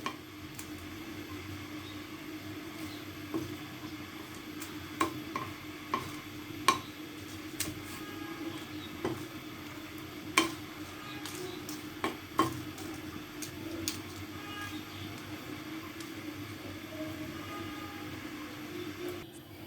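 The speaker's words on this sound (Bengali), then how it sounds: "শুকনো মরিচ দুটি ভেজে নিচ্ছি। এখানে আমি কোনো তেল ইউজ করব না।" Dried red chillies dry-roasting in a pan without oil, with a steady low hiss and scattered sharp clicks and scrapes of stirring, fairly quiet and without talk.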